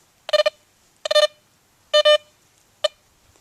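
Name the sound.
metal detector beeping over a nickel buried in sand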